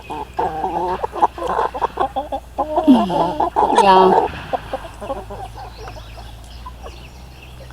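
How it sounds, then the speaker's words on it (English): Buff Orpington chickens clucking and murmuring close by, mixed with a person speaking softly over them, with a brief louder burst of clucks midway. "They're the buff Orpington chickens."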